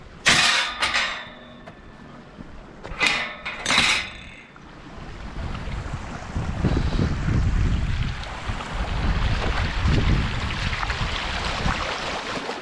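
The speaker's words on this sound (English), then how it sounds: "Lovely clean water coming off the hill." Clean water runs off a hillside along the Cwm Maethlon byway, a steady broadband rush of flowing water heard close, after a few short bursts of sound at the start, with wind buffeting the microphone.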